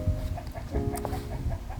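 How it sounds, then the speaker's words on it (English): Chickens cluck softly in short, scattered bursts at a moderate distance over a low background hum. "Got chickens over here."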